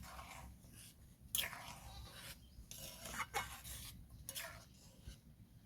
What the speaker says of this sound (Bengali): এইভাবে একবার নাড়াচাড়া করে নেব।